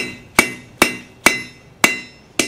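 Five sharp, evenly spaced hammer blows ring out as a forged taper is struck on an anvil's edge hardy, each a bright metallic clang that decays quickly before the next strike.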